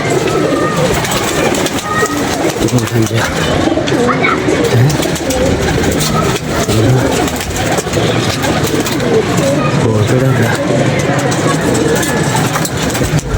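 A flock of pigeons cooing loudly and continuously close by, overlapping throaty coos forming a dense steady bed over a low background rumble.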